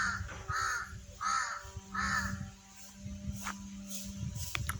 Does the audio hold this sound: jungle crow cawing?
yes